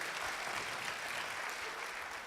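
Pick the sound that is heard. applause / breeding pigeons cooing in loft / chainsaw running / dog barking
applause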